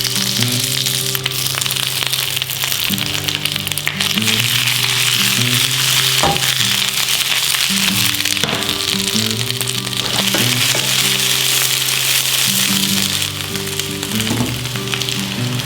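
Fresh spinach sizzling in a pan as the start of a simple sauce, a loud continuous close frying hiss with occasional crackles and faint clinks, steady throughout.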